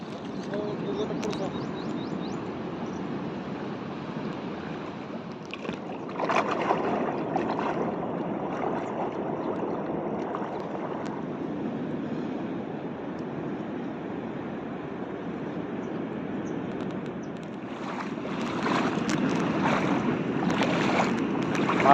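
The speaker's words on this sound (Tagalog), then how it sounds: "Ang lakas talaga ng agos" Strong current of seawater rushing along a shore on an outing to the sea, a steady broad wash that swells louder near the end, with people talking over it.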